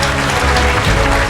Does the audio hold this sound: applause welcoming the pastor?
yes